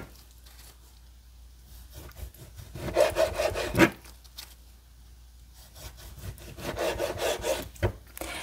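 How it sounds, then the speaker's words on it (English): A knife slicing a tortilla into very thin strips on a cutting board for Mexican-style tomato chicken soup, heard as close, rhythmic bursts of rapid scraping cuts separated by quieter pauses. "I'm just going to do my best and cut it into really,"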